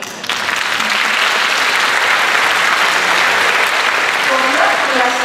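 Audience applause fills the hall after an Athens Bar Association choir performance at an international music ensembles festival, a dense, steady wash of clapping from many hands, loud and sustained throughout with no speech.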